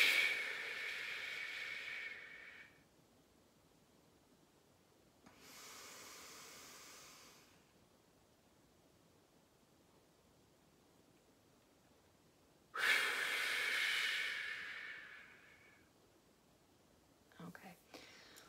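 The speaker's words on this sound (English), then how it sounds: "And then you go with the inhale and then you go with the exhale and you hold." Slow, deliberate breathing exercise: a long, airy inhale, a pause, then an extended exhale, with a second quieter breath, a long held silence, and a final strong breath followed by faint shuffling.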